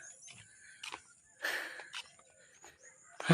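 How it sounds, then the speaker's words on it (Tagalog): Heavy, tired breathing after a jog: faint, breathy wheezing puffs come at irregular intervals, with one stronger gasp in the middle and quiet surroundings. "Hingal."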